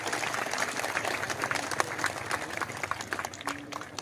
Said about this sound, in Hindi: जोरदार ताली बजाकर अभिनंदन करें।